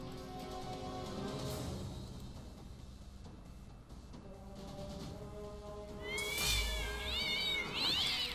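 Cat meows and caterwauls from the South Park: The Stick of Truth video game, loud wavering yowls near the end over steady game music and background noise.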